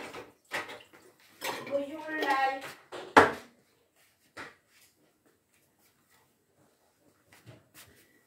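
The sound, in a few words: dishes and cutlery being handled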